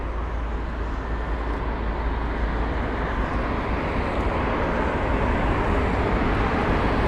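An Aer Lingus A320neo airliner arriving at London Heathrow, a broad steady engine roar with low rumble that holds evenly at a moderate distance throughout.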